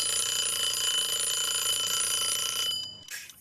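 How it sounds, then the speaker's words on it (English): A timer rings in one steady, continuous electronic tone for about three seconds, loud and alone, then cuts off abruptly. "5 minutes, one act timer, when it rings, the story ends."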